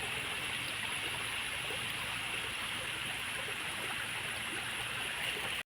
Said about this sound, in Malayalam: ഇവിടെയാണെങ്കിൽ വലുതായിട്ട് വെള്ളമില്ല, പക്ഷെ എന്നാലും ചെറുതായിട്ടൊന്ന് ഒഴുകുന്നുണ്ട്